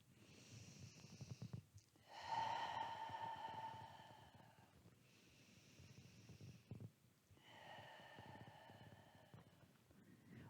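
Slow, deep breaths during a yoga flow, with long drawn inhales and exhales in separate waves with pauses between, close and quiet, and no talking.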